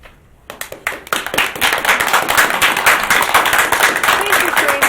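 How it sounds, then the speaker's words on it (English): Audience applause erupts in a board meeting room, starting after a brief quiet moment and swelling into sustained, dense clapping from many hands that continues loud and steady to the end. "Please refrain from clapping"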